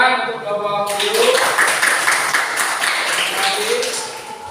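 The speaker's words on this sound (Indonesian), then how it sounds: "beri tepuk tangan untuk kelompok biru" Applause from a classroom audience for the blue group of students, a burst of many hands clapping that starts about a second in and holds steady and fairly loud to the end, after a brief stretch of talk.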